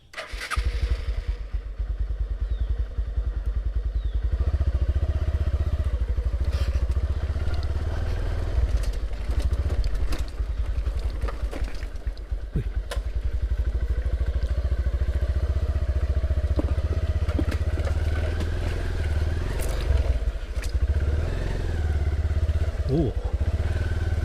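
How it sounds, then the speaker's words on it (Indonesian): A motorcycle engine drones loudly and continuously close by, its pitch rising and falling as it rides, with voices talking over it. "Dia takut dengar suara motor."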